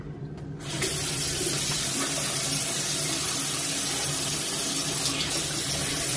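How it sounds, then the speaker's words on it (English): A bathroom sink tap runs steadily at full flow for several seconds while someone washes their face, a close, continuous hiss of water after a brief quieter start. "I'm just gonna wash my face really quick"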